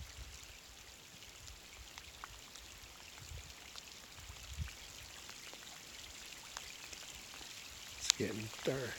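Raindrops patter steadily across a reservoir in Idaho, a soft continuous hiss of falling rain with scattered taps, growing denser and louder near the end.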